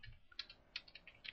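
Quiet, close clicking of computer keys in a short, irregular burst of a few presses, with no voices.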